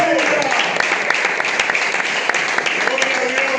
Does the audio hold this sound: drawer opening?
no